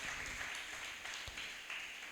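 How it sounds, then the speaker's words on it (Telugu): A church congregation claps hands together during a Telugu sermon, a dense steady patter of applause that holds at an even level for its whole length, with no voice heard over it. "చప్పట్లు కొట్టి దేవుని నామాన్ని గనపరుద్దాం."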